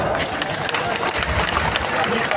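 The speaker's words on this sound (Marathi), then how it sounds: "आपण आपल्यासाठी एकदा टाळ्या वाजवा." A large crowd at an OBC rally in Nagpur bursts into dense, steady applause that fills the whole moment, with the clapping close and loud and mixed with a murmur of crowd noise.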